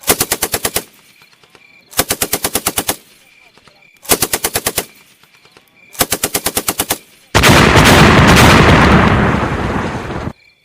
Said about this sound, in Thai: เสียงปืนลัวดังขึ้นเป็นประทัดแตก